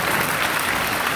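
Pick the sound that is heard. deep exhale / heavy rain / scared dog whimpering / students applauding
students applauding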